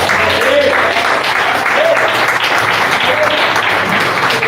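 A church congregation applauds in worship, a dense, loud, continuous clatter of many hands that holds steady throughout, with voices mixed faintly into the din.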